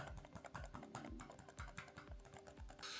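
Hard presses on a Redbean A39R silent Bluetooth mouse give a run of dull, muted clicks at a quick, even pace, each one soft and close, with no voices.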